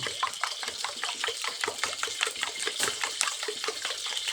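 Cooking oil crackles and sizzles in a pan while ginger chicken fries, a dense, rapid run of popping bursts over a continuous hiss, close and steady throughout.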